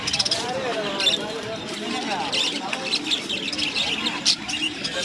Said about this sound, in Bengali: বিভিন্ন জাতের কবুতর আছে।